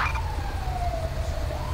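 Ambulance siren from a GTA V police-patrol mod, a single descending wail sweeping down steadily over a loud low engine rumble, heard alone.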